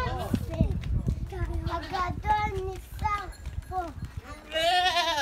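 Goats penned in an enclosure at a small farm bleat repeatedly amid busy chatter and footsteps, the wavering calls rising over voices, with one loud, drawn-out bleat near the end.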